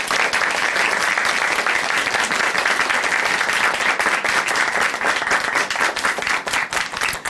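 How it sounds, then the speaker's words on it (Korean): A church congregation claps continuously for about seven seconds, dense and fairly loud, easing slightly toward the end, with no voices over it. "다시 한번 박수 부탁드립니다"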